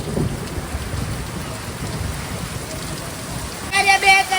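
Heavy rain with hail during a thunderstorm, a dense steady roar of drops drumming on surfaces, with sharper rattling impacts building loudly near the end.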